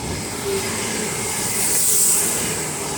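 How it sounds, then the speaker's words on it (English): A Class 195 diesel multiple unit passes through Castleton station, giving a steady rumbling roll with hissing that swells briefly midway before settling, heard at moderate distance with no voices. "The next train to be coming through will be 195018"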